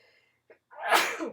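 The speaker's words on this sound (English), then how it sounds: "Gotta sneeze." A single sharp sneeze, preceded by a quick faint intake of breath, loud and close.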